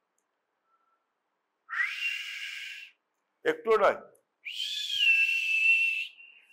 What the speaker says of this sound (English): how many of you can whistle?